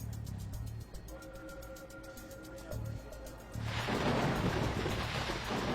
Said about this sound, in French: On va attendre que l'orage soit passé.